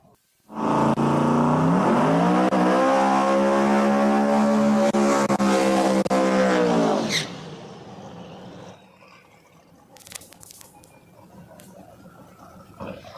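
A No Prep Kings drag racing car at New England Dragway does a burnout, a loud sustained engine roar with tire screech lasting about six seconds before cutting off, followed by faint idle and crowd noise.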